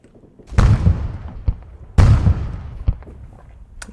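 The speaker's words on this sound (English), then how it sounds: "Okay, artillery tanks firing away." Artillery tanks firing in the Arma 3 battlefield game, two heavy booming salvos about a second and a half apart, each followed by rumbling echoes and smaller distant thuds.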